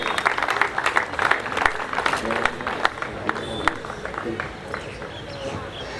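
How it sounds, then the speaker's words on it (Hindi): A crowd at a sports club final claps to welcome an athlete, dense rapid applause that is loudest at the start and then thins out, with voices murmuring underneath. "साक्षी परमार का जोरदार तालियों के साथ स्वागत करेंगे"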